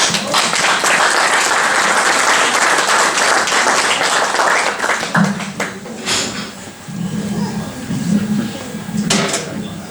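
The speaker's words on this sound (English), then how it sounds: "Let us add another hand clap." Audience at an organisation and structure formation workshop breaks into loud, dense applause that fills the first half, then thins to scattered claps as a voice speaks over the fading clapping.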